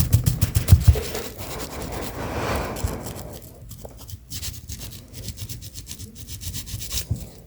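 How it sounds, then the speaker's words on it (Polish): A small brush scrubs a phone's charging port, close dry rapid scratching strokes, louder and busier at first with a few knocks, then lighter intermittent rubbing, no voices. "teraz ładnie tu szczoteczką pobijamy"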